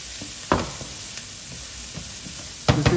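Onion and bell pepper fry in a pan for an arroz negro, a steady close sizzle broken by a few louder crackling bursts as they are stirred.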